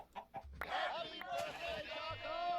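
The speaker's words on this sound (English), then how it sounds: "We should have still a chicken over here." Chickens clucking in Minecraft (All the Mods 9 modpack), a few short repeated clucks mid-loud with other game sounds and some talk around them.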